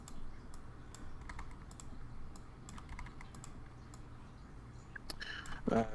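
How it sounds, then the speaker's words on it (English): A computer mouse clicks in sharp, scattered taps at irregular intervals, fairly close and fairly quiet over a low background hum, with a brief busier flurry at the end. "Take a shot every time the mouse clicks."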